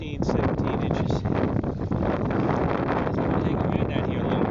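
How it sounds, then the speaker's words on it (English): Strong wind buffets the microphone on open water near a boat channel off Fort Pierce, where whitecaps are forming, giving a loud, steady roar with gusty surges throughout. "It's windy and starting to get a little bit of white caps"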